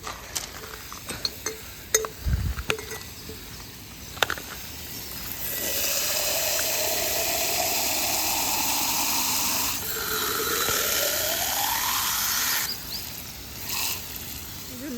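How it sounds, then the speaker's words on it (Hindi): Tap water runs into a vase being filled during garden flower care, a steady rushing stream that rises in pitch as the vessel fills, preceded by a few light clinks and handling knocks. "तो ये वाज जो है इनके अंदर पानी भरना है।"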